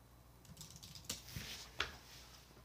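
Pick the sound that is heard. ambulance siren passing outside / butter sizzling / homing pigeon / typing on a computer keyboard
typing on a computer keyboard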